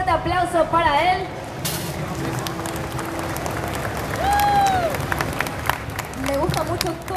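Crowd applause at a cosplay game show, a broad wash of clapping and cheering that swells in the middle and again at the end, with a voice and some tonal effects sounding over it.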